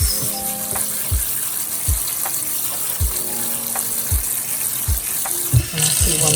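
Great northern beans being rinsed under a running tap, a steady gush of water with periodic low thumps and clatters as the beans are moved in the colander, close and fairly loud.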